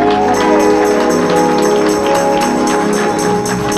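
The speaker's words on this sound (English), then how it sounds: "for about 30 seconds, give him your best hand clap" A church congregation claps hands in praise of God, with a dense, sustained wash of applause and crowd noise filling the room at a steady level throughout.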